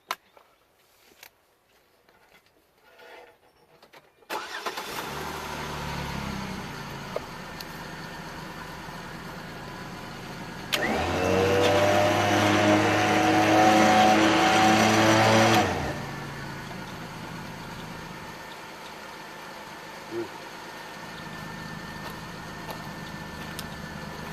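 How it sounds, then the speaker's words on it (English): A Jeep Wrangler engine turns over and idles, then revs up loudly with a rising whine for several seconds before dropping back to a steady idle. "Go ahead and start your engine and bring your controller around."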